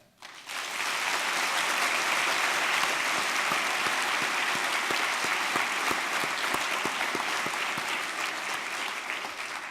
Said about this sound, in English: Would you please join me in a round of applause in appreciation for our staff?